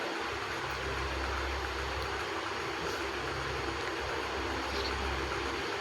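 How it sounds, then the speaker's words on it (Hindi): A grinder cuts a hole into stone that is wetted with water, producing a steady, loud, broadband grinding roar with a low rumble that runs throughout, with no talk over it. "ग्लेंडर से तो फिर भी ठीक हो रहा है, क्योंकि पानी से भिगो के करना पड़ता है ना"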